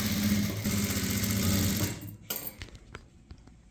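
A sewing machine stitching a blouse hem runs in one steady loud whir for about two seconds, then stops, leaving a few faint clicks and handling sounds.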